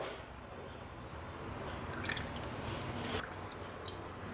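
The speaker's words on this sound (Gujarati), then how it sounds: "500 ગ્રામ લોટ સાથે આપણે અડધો કપ સિંગ તેલ લેશું।" Half a cup of peanut oil is poured into flour for Bhavnagari gathiya, a soft, close liquid pour with faint drips and trickles, quiet and without talk.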